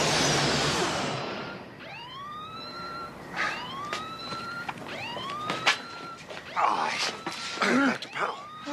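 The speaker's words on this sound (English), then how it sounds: "I was driving by and I heard the alarm" An electronic alarm wails in repeated rising sweeps, moderately loud, with a burst of noise at the start and some clatter near the end.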